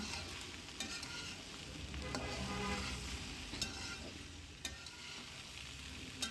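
Rice being stirred and fried in a pan with chopped coriander for a breakfast dish, a steady soft sizzle with scraping stir strokes and occasional sharper clicks, close and continuous without talk.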